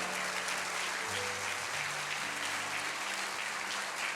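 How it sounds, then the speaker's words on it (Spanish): Church congregation clapping during a worship service, applause for Christ in a dense, sustained wash of many hands, steady and loud, with faint tonal music underneath. "Dele un aplauso a Cristo, nuestro Señor."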